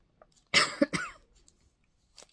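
A single close cough followed by a second short cough, then quiet with a faint breath at the end.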